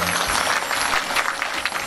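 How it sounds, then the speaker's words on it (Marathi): Audience at a Marathi devotional storytelling event bursts into dense, steady applause that fills the short stretch without a break, with a faint voice briefly audible underneath. "या सगळ्यांसाठी एकदा जोरदार टाळी झाली पाहिजे."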